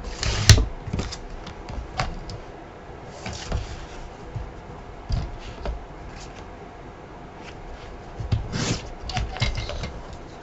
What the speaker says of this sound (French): Je reprends mon massicot. Hop! Et je vais couper sur mes repères.